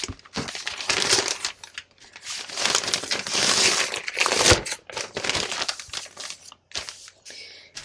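Paper being crumpled and stuffed into a bag during an unboxing of the Fernwood Collection, a dense, continuous crinkling and rustling close by with brief pauses, no voices.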